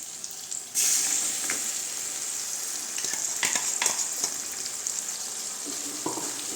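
Onions sautéing in a pan for a sardine (maththi meen) fish curry, a constant close sizzle that jumps in loudness at the start, with occasional stirring scrapes over it.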